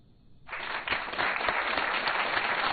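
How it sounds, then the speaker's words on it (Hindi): Studio audience applause on a romance game show breaks out after a brief quiet moment, then holds as a loud, dense, continuous clatter of many hands clapping. "तालियों को जरा रोक के रखिए"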